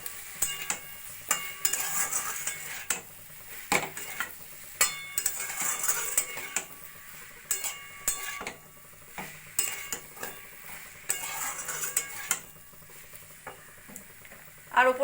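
Broccoli being stirred with soy sauce in a pan, a soft sizzle broken by repeated scraping and clinking strokes of a spoon against the pan in an uneven rhythm, close by and without voices.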